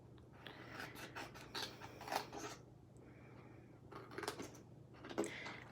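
Scissors cut a small rectangle out of a slimline birthday card, a series of quiet, close, rasping snips in short uneven bursts.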